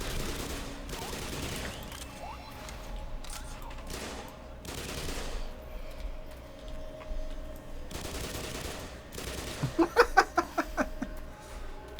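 Gunfire in the Black Mesa video game: scattered shots and bursts across the stretch, ending in a rapid string of sharp reports, with faint voices in the background.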